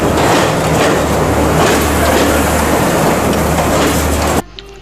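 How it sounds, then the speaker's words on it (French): A train in Sri Lanka pulls in with a loud, steady rumble and rattle of rolling wagons and wheels on the rails, filling the scene before cutting off abruptly near the end. "Le train arrive."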